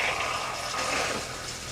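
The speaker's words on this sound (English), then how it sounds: "good pink antifreeze coming out of there." Steady rush of pink antifreeze pouring out of travel trailer plumbing and splashing into a drain, continuous and fairly close, no voices.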